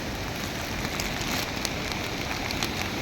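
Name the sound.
water flowing at Nalda waterfall after heavy rain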